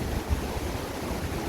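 River water flowing down from distant mountains at Vazhachal, a steady broadband rush with low rumble, continuous and fairly close, with no voices.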